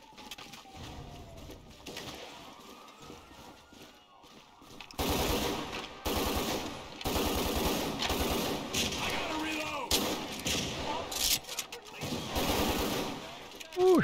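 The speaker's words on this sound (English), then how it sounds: "That's some serious shooting right there" Gunfire in the video game GTA 5: a quieter start gives way to long, loud bursts of rapid shots that rattle on and off through the rest of the scene.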